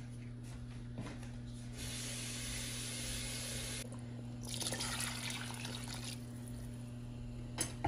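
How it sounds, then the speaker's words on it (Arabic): Water pours into a pot of lentil and chicken stew in two hissing streams, each lasting about two seconds, over a constant low hum, with a few small knocks and no speech. "هلا احط شويه مي بعد"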